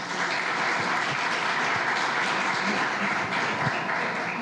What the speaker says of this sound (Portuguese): Vamos receber o servo de Deus aplaudindo o nome do Senhor